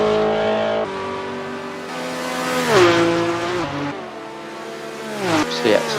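Ford and Ferrari race cars in a Le Mans racing video game drone through engine notes that rise and fall as they shift gears, with a brief tire squeal midway and speech faintly underneath.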